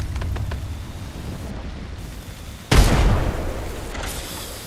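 A frag grenade goes off in a battle royale shooter, a single loud booming blast that cuts through the quiet ambience and trails into a rumbling tail lasting about a second.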